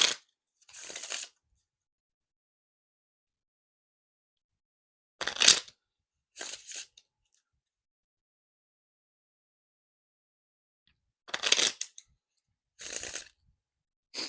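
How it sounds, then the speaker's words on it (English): Deck of playing cards being riffle and bridge shuffled, several short, crisp fluttering bursts separated by silence, close and fairly quiet. "And now time for the riffle shuffle or bridge shuffle."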